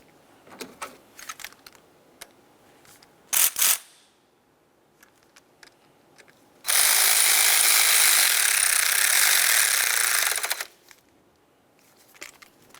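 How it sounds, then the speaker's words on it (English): A tensioner bracket mounting bolt being tightened on a 2006–2011 Honda Civic: small metallic clicks and tool taps, a sharp burst of rattling, then about four seconds of loud, steady power-tool whirring, then more light clicks. "Start in that mounting bolt, tighten it up."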